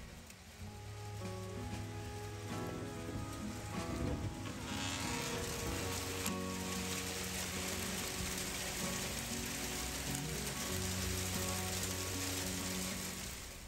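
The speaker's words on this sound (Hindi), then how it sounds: "ये दबा दब ओले पड़ रहे थे" Dense hail pours down steadily in a continuous hiss and patter, with a faint low hum running underneath.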